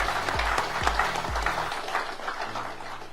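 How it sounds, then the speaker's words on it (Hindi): An audience at an L.I.C. seminar in Gandhinagar applauds to welcome a senior speaker, a moderate wash of clapping with a few heavy low thumps early on. "जोरदार तालियों के साथ स्वागत करें।"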